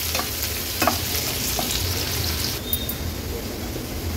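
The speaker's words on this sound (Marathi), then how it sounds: "गॅसची फ्लेम लो करते आणि लो फ्लेमवर कांदा छान शिजवून घेते।" Chopped onion fries gently in a little oil over a low flame, producing a soft, continuous close sizzle with occasional stirring scrapes and clicks.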